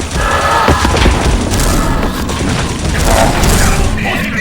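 Gunfire in the online shooter XSHOT, a dense run of loud booming shots and mechanical clatter, close and rapid, filling the whole stretch with little letup.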